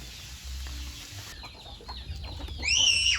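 Chickens cluck near a vegetable garden, a few soft clucks at first and then louder, higher calls toward the end, with quiet stretches between them.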